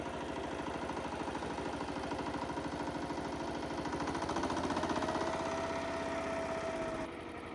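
A farm tractor engine runs at a steady idle with a fast, even putter that sounds slightly distant and muffled. A faint rising whine enters near the end before the engine note drops a little.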